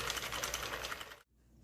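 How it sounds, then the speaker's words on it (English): Sentro 48-needle knitting machine being cranked: a rapid, close mechanical clatter of needles for about a second, then stopping abruptly into near silence. "So I'm going to give it some spins, and I'll let you know how it turns out on the bigger size of the machine."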